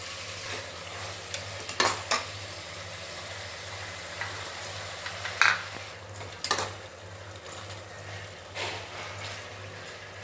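Biryani masala with curd just added, stirred in a pot over a steady low simmer, with scattered scraping clicks of the spoon and a soft bubbling hiss underneath.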